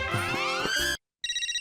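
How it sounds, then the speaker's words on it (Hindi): A telephone rings loudly and close, one bright trilling ring, a short silent gap, then the ring starting again, with no voices over it. "विजय का फोन आ रहा है, क्या बोलूं?"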